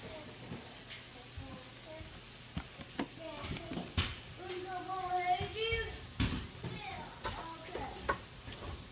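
Soft crackling sizzle of sausage frying in a pan, with scattered clinks and scrapes, while voices talk faintly in the background.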